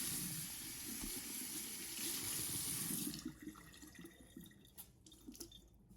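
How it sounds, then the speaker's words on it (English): Running water from a tap splashes steadily through a dirty vacuum filter being rinsed clean, a loud continuous gush for about three seconds before it cuts off, leaving faint drips and handling noises. "we're just rinsing it out until the water turns clear"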